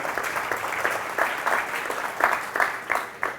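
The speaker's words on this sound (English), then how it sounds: "the fact that we're finishing in Algeria deserves an applause for the team here" An audience at a startup competition kickoff event in Algiers applauds, a steady moderate clapping of a mid-sized crowd that swells in irregular pulses throughout.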